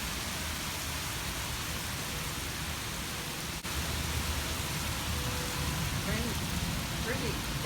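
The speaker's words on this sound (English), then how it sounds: "It's nice to listen to rain though. Even on the water." Rain falling steadily outdoors, including onto water, a soft continuous hiss with faint birdsong near the end.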